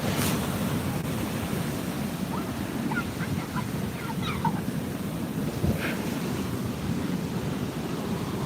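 Sea waves break and wash continuously in steady surf, with a broad rushing roar and wind buffeting close to the microphone, while a few brief squeaky tones rise above it.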